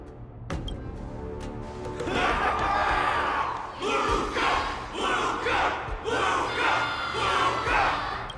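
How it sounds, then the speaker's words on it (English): A game crowd in Honkai: Star Rail roars and cheers in repeated swelling waves of shouts, loud and full, with a few thuds early on. "Everyone's cheering for you, Luca."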